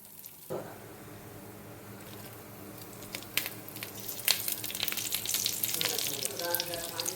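Curry leaves and small onions dropped into hot oil for a tempering for gongura pickle: a quiet pan hum swells into loud, crackling sizzles and spits that grow busier and more intense toward the end.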